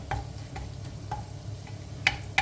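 Garlic and dried thyme frying gently in oil and butter in a pan, a soft, steady sizzle with faint clicks and stirring taps, close and quiet with no voices.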